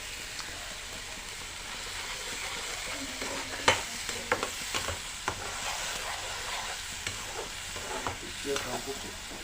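Onions are added to a pan after potatoes have been fried, for a paneer curry, and sizzle steadily while a spatula scrapes and clacks against the pan in irregular bursts.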